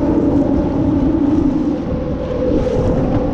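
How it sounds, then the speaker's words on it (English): Strong wind batters the microphone on open water while jet skiing on the Elizabeth River in 30 mph December winds, a loud continuous roar mixed with the steady drone of the personal watercraft engine, no one speaking. "This is the wind"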